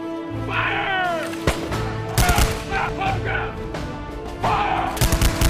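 Musket volleys at a Revolutionary War battle reenactment of Lexington and Concord, with sharp, loud gunshot bursts in ragged clusters amid shouting voices and background commotion.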